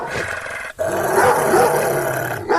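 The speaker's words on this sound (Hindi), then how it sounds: "टॉमी उन पर भौंकने लगता है।" Tommy, a cartoon dog, barking and growling at people, a close, loud rough snarling bark held over a couple of seconds with a brief pause, no talk.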